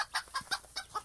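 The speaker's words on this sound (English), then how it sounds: "Chicken," A chicken clucks in a quick series of about six short, bright calls at a steady rhythm, close and clear with no talk.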